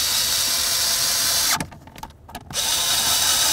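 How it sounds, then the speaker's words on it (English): Power tool driving mounting screws while replacing the hood latch cable on a 1994-2004 Chevy S-10, a loud close whir that runs steadily, pauses briefly for about a second, then resumes. "put in our mounting screws"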